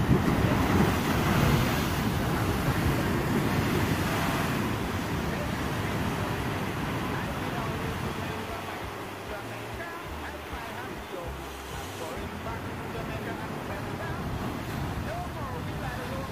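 Ocean waves roll and break against rocks along the Puerto Rico coast, a steady loud wash of surf with wind rumble on the microphone, constant throughout without distinct pauses.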